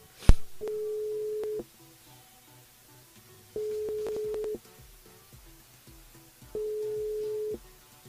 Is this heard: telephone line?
yes